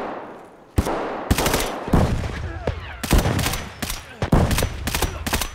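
Gunfire rings out in the shooter game Escape From Tarkov: loud, close bursts and rapid shots in quick succession, sharp cracks repeating with short gaps across the whole stretch.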